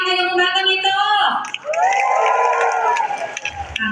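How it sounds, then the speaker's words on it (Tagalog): A large crowd at a morning event in Taguig cheers and shouts, a sustained roar of voices with a loud whoop rising above and scattered clapping underneath, close and energetic. "pumalakpak po na may kasamang hiyawan ang lahat ng masaya ngayong umagang ito"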